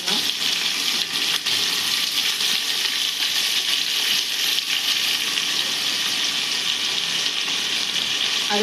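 Three sliced onions sizzle in hot oil with spices in a home kitchen, a steady, bright crackle and hiss that stays loud and even throughout, with brief clinks along the way.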